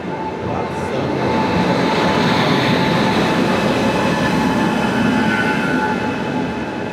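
Inside an air-conditioned chair car of the Gujarat Superfast Express on the Vadodara to Ahmedabad run, a steady loud rumble of the train pulling away fills the cabin, a continuous rolling drone with a faint high whine over it.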